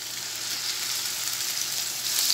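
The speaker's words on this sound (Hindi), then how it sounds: "अब मैं इसमें मैरिनेट की हुई चिकन डाल रही हूँ" Marinated chicken hisses in a hot pan over low-to-medium flame, a steady close sizzle that swells slightly louder near the end.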